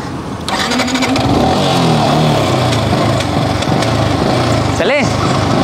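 A motorcycle engine running as a rider sets off, a loud continuous rumble with rising revs and a sharp burst near the end, close by and with no talk.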